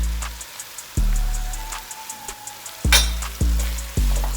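Hot Italian turkey sausage frying in a pan: a constant close sizzle broken by several sharp knocks and spatters as the meat is moved and stirred.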